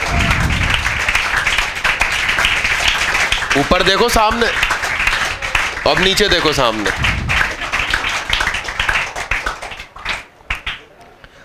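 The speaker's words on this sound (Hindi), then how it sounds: "इनके लिए जोरदार तालियां बजाओ।" Students in a classroom clap together for a classmate honored for a test rank, brisk applause that carries on under and between a man's spoken instructions.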